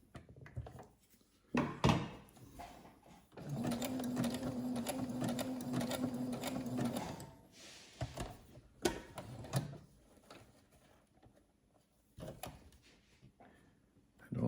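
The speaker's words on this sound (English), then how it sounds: "this is a very primitive way of sewing" A hand-operated sewing machine stitches old fabric during underwear repairs, running in a steady whirring burst of a few seconds, framed by clunks and knocks as the fabric and machine are handled, with no talking.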